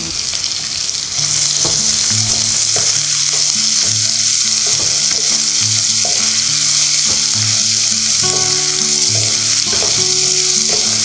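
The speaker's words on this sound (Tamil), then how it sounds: "கொஞ்சம் நல்ல கலர் வர வரைக்கும் நம்ம அது கொஞ்சம் வதக்கணும் லைட்டாக." Sliced onions sautéing in a pan with cashews for vegetable pulao, a loud, steady sizzle and crackle throughout, with repeated spoon-stirring scrapes and clinks against the pan.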